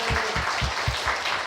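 A church congregation claps together in a brief burst of applause, with a regular rhythm of sharp claps roughly every quarter second, close and fairly loud.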